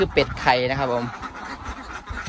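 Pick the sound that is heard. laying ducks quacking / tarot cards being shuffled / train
laying ducks quacking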